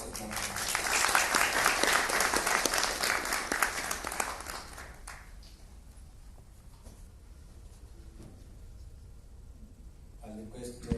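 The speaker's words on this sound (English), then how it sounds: "Let's applaud him" Auditorium audience in New Delhi gives the chief guest a burst of loud, sustained applause that fades away after about five seconds, leaving quiet room murmur and a voice beginning to speak.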